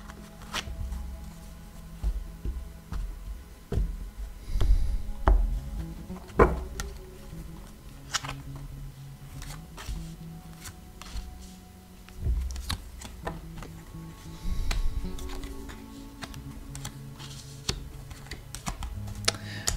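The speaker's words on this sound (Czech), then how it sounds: "Já si tady zamíchám karty a mrkneme na to, co vás čeká v nadcházejícím měsíci." Tarot cards shuffled by hand for a monthly reading, a near, continuous run of soft riffling clicks and flutters in uneven bursts, with no talk over them.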